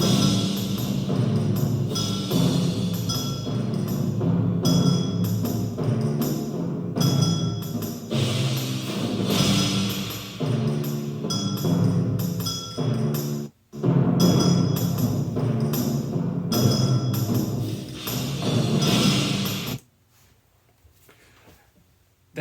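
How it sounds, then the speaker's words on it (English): Timpani and bass drum carry the bones of an orchestral cinematic theme, with deep, booming rhythmic strokes sustained over about twenty seconds before a brief pause and a sudden cutoff into near silence. "the theme is actually played by timpani"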